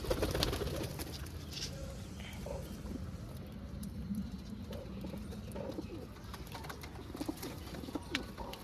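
Pigeons kept in netted rooftop lofts coo softly and steadily over a low, constant background rumble, with scattered soft knocks and faint voice-like murmurs throughout.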